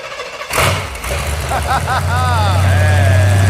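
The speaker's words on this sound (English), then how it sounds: "Nice. Runs like a Cadillac. Not even that loud." An old truck engine cranks briefly, catches with a loud start, then settles into a steady, rumbling idle close by, with whining tones over the running engine.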